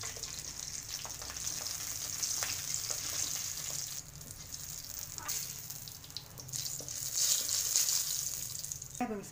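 Cumin seeds roasting in ghee in a pot for rice, heard as a soft, steady sizzle with occasional light crackles and stirring scrapes, fairly quiet and continuous throughout.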